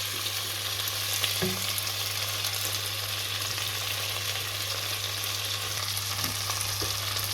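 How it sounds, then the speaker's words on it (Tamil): Steady, continuous sizzling of tomatoes sautéing in a pan for prawn curry, with a constant low hum and a couple of brief scraping stirs; no voices. "நல்லா வதக்குவோம் தக்காளி போட்டு"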